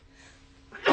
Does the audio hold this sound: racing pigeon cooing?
no